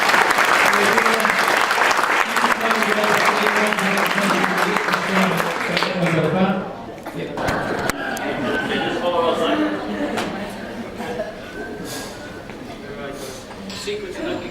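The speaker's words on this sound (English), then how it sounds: "Let's give them another round of applause here." Applause from an audience at an evening event, dense clapping that fills the space for several seconds, then thins and softens as voices and chatter come up beneath it.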